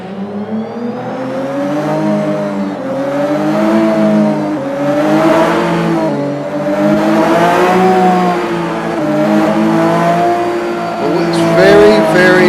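A 1000-horsepower car pulls away hard once the clutch engages, its engine note rising and falling through loud, sustained revs with a steady harmonic drone close by.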